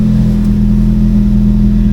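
A Ford Focus ST with an upgraded throttle body runs loud and close, its engine holding a steady, throaty drone for a couple of seconds with no voices.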